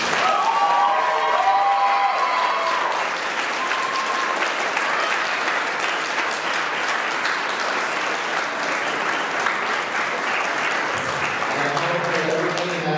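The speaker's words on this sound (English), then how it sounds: "Give them one more round of applause," An audience at a high school spring concert claps in a long, steady, loud roar. Voices call out near the start, and a person speaks again near the end over the fading clapping.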